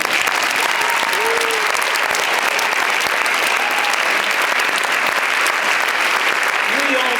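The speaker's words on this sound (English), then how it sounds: "So a round of applause for them." A crowd at a youth choir's spring concert gives a dense, sustained round of applause that stays loud and even, with a few faint voices or whoops mixed in.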